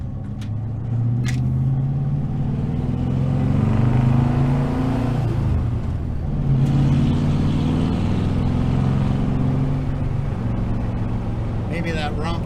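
A 1976 Dodge Dart Sport driving along a road, its engine droning and rising in pitch as it accelerates, a gear change midway, recorded from inside the car with a steady loud cabin rumble.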